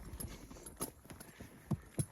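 A working horse's hooves clip-clop at a slow, uneven pace on a trail, a handful of distinct thuds with the last two strongest, close by with faint rustling between steps.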